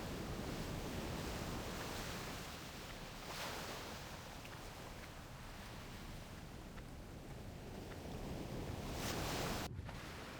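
Water washing and sloshing around a character swimming in World of Warcraft Classic, a steady broad wash of game surf with gentle swells that lasts throughout, with no talking.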